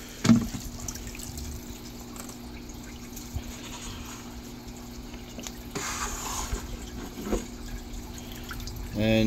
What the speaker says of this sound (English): bucket over and it just sort of exchanges the water